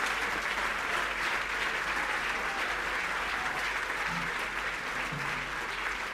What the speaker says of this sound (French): Applaudissements encore une fois, mesdames et messieurs, pour son excellence